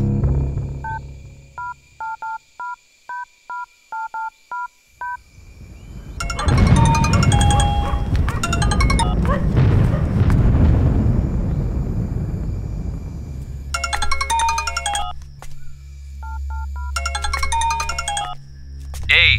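Telephone dialing tones in a Tamil mystery crime thriller film: a quick run of keypad beeps, then loud bursts of ringing that repeat unanswered over a busy, swelling score.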